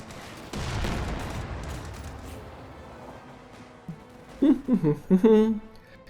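A Sexton self-propelled artillery barrage in Company of Heroes 2 lands as a burst of rumbling explosions that fades out, followed by a voice talking.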